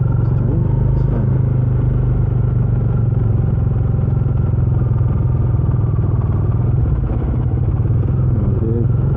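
A Bajaj Dominar 400 UG2 BS6 on its stock exhaust rumbles steadily at close range while being ridden in first gear with the revs held up, its low engine drone constant throughout, with rattling clatter and road noise over it.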